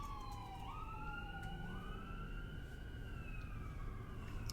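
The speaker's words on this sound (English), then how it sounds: "I just hold space for the ambulances to get safely where they're going" An ambulance siren wails continuously as it passes along a road, its sweeping tones shifting in pitch over steady traffic rumble, fairly close and loud throughout.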